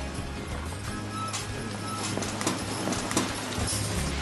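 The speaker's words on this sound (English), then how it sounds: "I'm the guy that drives the horses and gets the logs out of the woods." Work horses haul logs out of the woods in a sustainably managed forest, with scattered clopping hooves and rustling over a steady low background, moderately distant.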